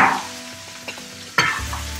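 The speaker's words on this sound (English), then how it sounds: "we're gonna cook the onions really nice with the oil and the ghee" Red onions cooking in oil and ghee for an outdoor chicken biryani, giving a steady sizzle with a couple of sharp stirring scrapes, the second louder and followed by a lower rumble.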